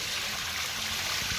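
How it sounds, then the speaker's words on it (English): Heavy rain pouring down in a steady, dense rush over the town of Cadaqués, loud and continuous with no voices. "It's a freaking waterfall."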